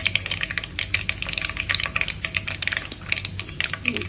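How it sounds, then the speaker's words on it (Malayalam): Mustard seeds splutter and crackle in hot mustard oil for a homemade pickle, quick irregular pops and sizzles close by, continuous without talking. "കടുകെല്ലാം പൊട്ടി"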